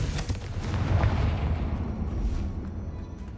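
Fiery Confringo spell explosions in the Hogwarts Legacy video game, a deep booming blast with rumbling low end that swells early and then decays into a sustained roar over a few seconds.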